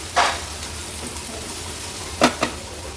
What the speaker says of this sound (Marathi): कांदा व्यवस्थित आपल्याला शिजवून घ्यायचा आहे।